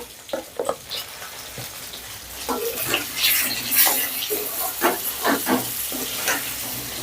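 Jujubes fry in hot oil for a sweet and spicy pickle, with uneven bubbling sizzle and several sharp stirring clatters near the pan. No one speaks.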